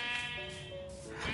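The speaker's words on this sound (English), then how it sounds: "So many sheep here." A sheep bleats in the Minecraft video game, one clear wavering bleat about a second long, heard alone and fairly close.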